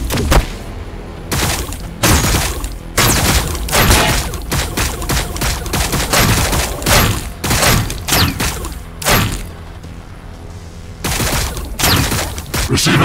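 Heavy battlefield gunfire in Warhammer 40,000: Battlesector, with loud bursts of shots and booming impacts arriving in dense waves separated by brief lulls, sustained for more than ten seconds.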